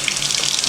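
Cold water runs steadily from a kitchen tap into a sink, a continuous close hiss and splash with no talk.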